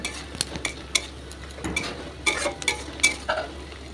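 Sliced onions for biryani beresta frying in oil over medium gas, a soft steady sizzle broken by rhythmic scraping and clinks of a spatula stirring in the pan.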